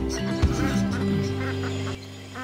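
A duck kept on a Polish goat and poultry farm quacks loudly and close by, giving a couple of honking calls over steady farmyard background noise.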